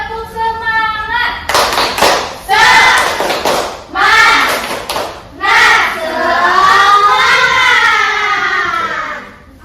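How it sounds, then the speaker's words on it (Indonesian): A classroom of children performing the rhythmic tepuk semangat spirit clap, bursts of loud hand claps in a set pattern alternating with chanted voices, the whole group clapping and chanting close by. "Oke, tepuk semangat."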